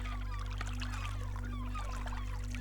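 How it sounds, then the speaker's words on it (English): Many gulls squawk and cry in a busy overlapping chorus overhead over a steady low hum, continuous and moderately close, at sea near a boat. "You can hear the cry of gulls overhead."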